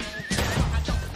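A horse whinnies loudly and close by, a short shrill neigh rising and falling, with faint hoof and body noises around it.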